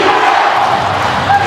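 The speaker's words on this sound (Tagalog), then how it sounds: "Crowd coming alive." A basketball arena crowd roars loudly and continuously at a tight fourth-quarter pro league game, a dense wash of cheering filling the space with no break.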